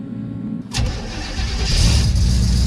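Pontiac Firebird with a badly leaking exhaust cranks and fires up after a moment of quiet, then settles into a loud, rough, rumbling idle close by.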